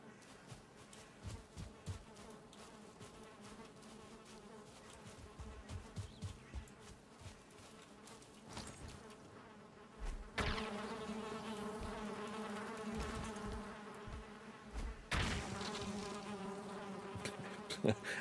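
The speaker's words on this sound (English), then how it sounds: "I hear some bees in here." Bees buzz in a Black Forest area of the Valheim video game, a faint droning hum that thickens and grows louder midway, with brief clicks and taps scattered through it and no speech.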